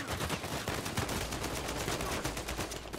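Gunfire in Uncharted 4 rattles as a dense, continuous barrage of rapid shots, steady and loud across the whole stretch with no pauses.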